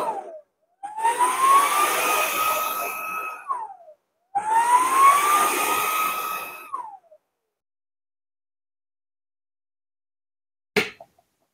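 A JIGOO V700 cordless vacuum's docking station empties its dust bin in two loud whooshing suction bursts of about three seconds each, separated by a short pause, then a brief click follows after silence.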